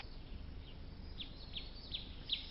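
A bird in a children's cartoon gives a few short, high chirps, quiet and spaced out over a steady low background hum.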